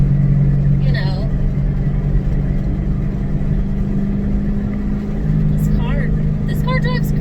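A Ford Mustang GT engine drones steadily from inside the car while driving on open roads, a loud low rumble throughout, with a voice talking over it in places.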